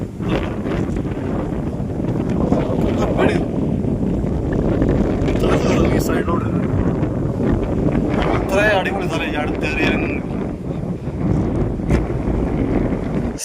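Strong, cold evening wind blows across a high hilltop about 3500 feet up, buffeting the microphone in a continuous loud rush, with voices faintly mixed in.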